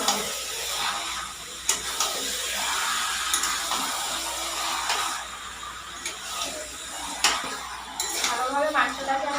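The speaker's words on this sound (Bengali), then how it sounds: "ভালোভাবে মাংসটাকে আমার নাড়া হয়ে গেছে" Duck meat is stirred in a cooking pot, with a spatula clinking and knocking against the metal over a soft background hiss; a voice speaks briefly near the end.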